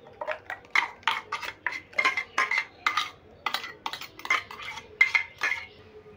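Tomato paste spooned from a container into a bowl, a rapid series of light metallic clinks and scrapes of a spoon against the dish, close and fairly quiet.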